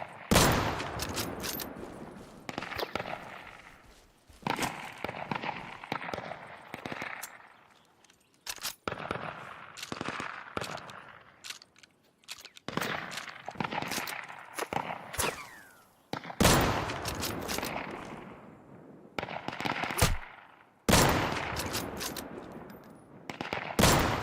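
Gunfire strafing in the Deadside video game: repeated rapid bursts of automatic shots, sharp and loud, separated by short gaps across the whole stretch, with no voices.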